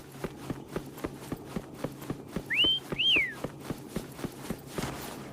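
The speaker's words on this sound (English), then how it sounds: "Why don't you call Foam over? Try whistling. Like this." In the Wuthering Waves video game, a character whistles to call a companion with two short rising-and-falling whistles midway, heard over a steady rhythmic patter of footsteps.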